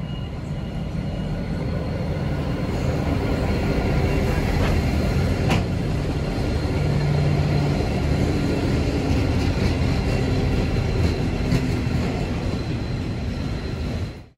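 Three 81 class locomotives and a Waratah train at a station on Sydney's Bankstown line, heard as a loud, steady rumble of rolling stock and engines that fills the whole stretch with no talking.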